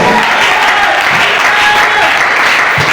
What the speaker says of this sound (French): Applaudissons, applaudissons.